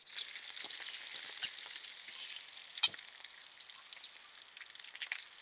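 Eggplants frying in a covered pan as they are flipped, a steady soft sizzle with scattered small pops and crackles, one sharper tick midway, close and fairly quiet.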